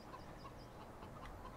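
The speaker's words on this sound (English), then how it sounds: "Chickens are having a good time over there." Chickens in the Farming Simulator 17 video game cluck in short repeated calls over a soft background hum, fairly faint and steady, with several clucks in quick succession.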